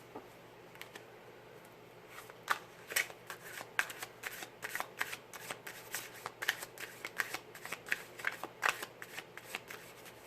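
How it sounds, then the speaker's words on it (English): Oracle cards from a Twin Flame Journey deck being shuffled by hand, a steady run of crisp papery riffles and taps close up, alone with no talk. "now I'm going to pull clarifiers from the Twin Flame Journey Oracle from Mystic Moon Oracles."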